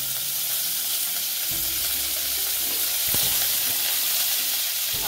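Cumin seeds and curry leaves sizzle in about a spoonful of hot ghee, a steady bright frying hiss that swells briefly as the leaves hit the fat, close and alone.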